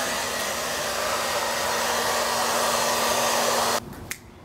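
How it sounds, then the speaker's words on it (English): A hair dryer blows with a loud, steady whooshing hum, then cuts off abruptly near the end, leaving a faint click and quiet. "So I'm gonna get started with this blow dryer here."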